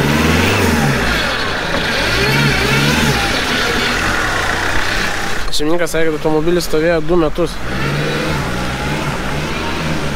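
A Mercedes AMG E63 that had sat unused for two years revs and accelerates with a deep, rising engine roar, with someone speaking over it in the middle.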